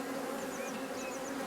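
Honey bees buzz steadily at an open beehive while a super is being added, a close, continuous droning hum with no voices.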